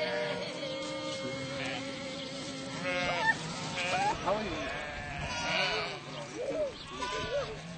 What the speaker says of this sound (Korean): 유목민의 아침을 여는 건 염소와 양떼들.